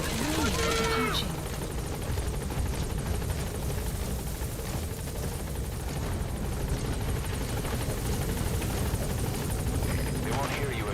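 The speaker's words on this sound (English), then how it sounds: "Put the target on the chopper." A helicopter in the Metal Gear Solid video game drones steadily throughout with rotor chop and broadband whir, loud and constant, with brief game sounds at the start and end.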